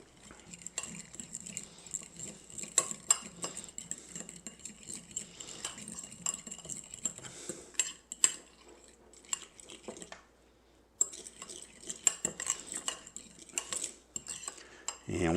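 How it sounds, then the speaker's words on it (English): A metal utensil stirs remoulade sauce made with pickle juice and hot sauce in a bowl, giving repeated clinks and scrapes against the dish in an irregular rhythm, with a short pause before stirring resumes. "And give it a stir up to make our remoulade."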